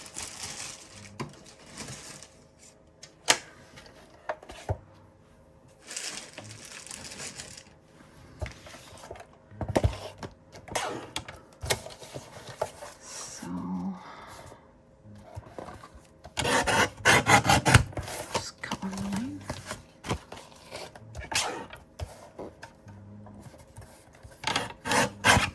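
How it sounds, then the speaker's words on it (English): A large paper trimmer slices through a recycled book cover during handmade cover making, with scattered rasping, rubbing and sliding strokes that build into a denser burst of cutting near the end. "So I'll get the big trimmer out for that."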